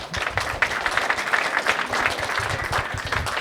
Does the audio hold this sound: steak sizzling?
no